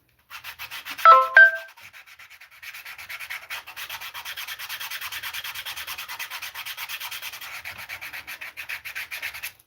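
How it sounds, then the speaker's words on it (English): Small sanding stick worked along the edge of a leather holster for an 1851 Navy revolver, a long series of quick, even scratchy strokes, close and fairly soft, after a brief tonal sound near the start. "These little sanding sticks."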